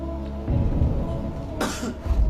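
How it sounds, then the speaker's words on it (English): A single sharp cough bursts out partway through a quiz show, over a low background murmur and rumble. "would signal correct answers with a cough"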